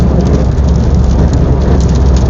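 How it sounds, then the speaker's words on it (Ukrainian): Heavy rain drums steadily and loudly on the outside of a BMW E87 car, a dense continuous wash with no voices. "Класно буде сьогодні знімати обзор в дощ."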